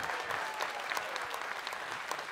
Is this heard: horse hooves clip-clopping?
no